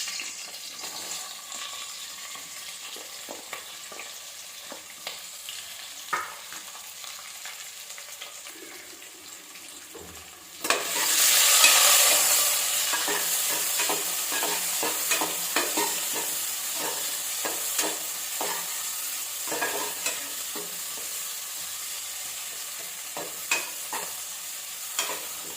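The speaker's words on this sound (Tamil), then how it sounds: "வெங்காயம் நல்லா வதங்கிடுச்சு." Chopped medium-size onions sizzle and get stirred in a pan while cooking paneer biryani, a soft steady frying hiss that grows louder partway through, broken by scraping stir strokes.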